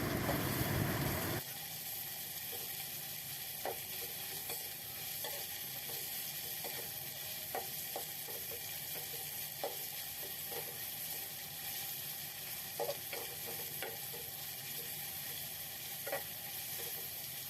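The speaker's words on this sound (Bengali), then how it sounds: "আর একটু ভেজে নিব।" Salted hilsa fish fries in a pan with a constant, even sizzle, punctuated by soft scattered taps and scrapes of a spoon stirring the pieces, a louder burst of hiss opening the scene before settling.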